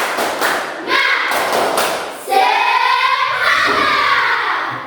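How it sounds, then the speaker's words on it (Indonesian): A classroom of children performs a rhythmic clapping chant routine, hands striking in quick loud bursts mixed with young voices shouting along, close and lively throughout. "Tepuk semangat."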